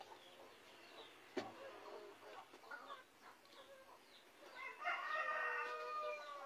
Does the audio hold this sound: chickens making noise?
yes